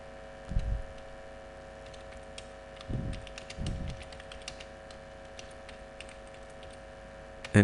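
Text typed on a computer keyboard in MS Word 2007, a run of light, close key clicks scattered unevenly with a few soft thumps and a steady background hum.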